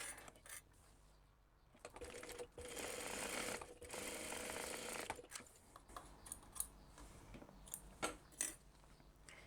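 A sewing machine stitches a seam on a crossbody bag, its motor whirring in bursts of rapid stitching broken by short pauses and small clicks, fairly close and with no talk.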